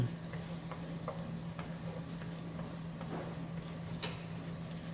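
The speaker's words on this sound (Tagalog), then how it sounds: "Hanggang sa mag golden brown ng bawang." Garlic frying in oil, a steady close sizzle with fine crackles and occasional pops throughout, over a constant low hum.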